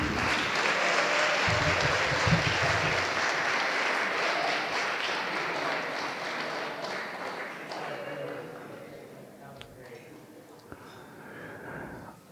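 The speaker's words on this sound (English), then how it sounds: "how about a big round of applause for both of our toastees this evening?" Wedding guests applaud after the toasts, a dense, loud round of clapping that slowly thins and fades toward the end, with a few scattered claps and voices lingering.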